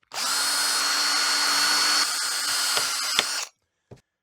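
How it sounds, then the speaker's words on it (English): A power drill bores holes for a DIY cat run: one loud, steady whine runs for over three seconds before cutting off, followed by a faint knock. "Drill the holes first."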